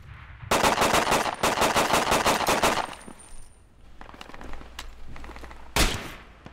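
Bursts of automatic rifle fire in the Project Reality military shooter, several long rapid strings crackling loud and close, then scattered distant shots and one more sharp nearby volley, with almost no talk.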